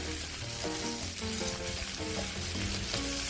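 Sea catfish stir-frying in a hot pan with shredded ginger and green peppercorns, a loud, continuous sizzle and crackle of oil with faint background music.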